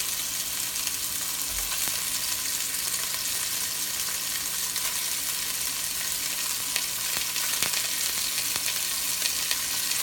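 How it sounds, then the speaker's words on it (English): Sausage browns in a pan for a Paleo and Whole30 jambalaya, giving a soft, steady sizzle with faint crackles that runs unbroken throughout, with no one speaking. "let's just start browning just a little bit"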